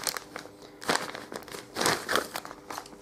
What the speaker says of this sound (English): It's in a quite tough plastic bag.